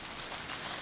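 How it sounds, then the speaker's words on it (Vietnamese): Rain falls on a worn tarp tent, a dense continuous patter with a soft hiss, close and even for the whole short stretch, with no voices. "Bây giờ đang mưa như thế này"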